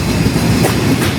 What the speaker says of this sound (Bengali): এই মুহূর্তে আমরা চুয়াডাঙ্গা রেল স্টেশনে প্রবেশ করলাম